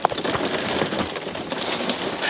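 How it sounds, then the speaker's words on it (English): Torrential rain driven by a gale blows during a road trip in Scotland. It makes a dense, steady roar of falling water and wind that fills the whole stretch without a break, loud and close. "Absolutely blowing a gale all night, torrential rain"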